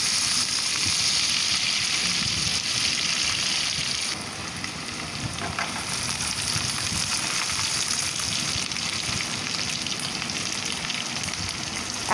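Cubed onions sizzle and spit steadily in a hot pan for chili egg, a continuous close frying hiss that drops slightly in level partway through, with faint stirring scrapes and no voices.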